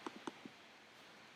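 A computer mouse double-clicks on a spreadsheet tab, two quick crisp clicks followed by a second faint pair after a pause, close and quiet in an otherwise silent room.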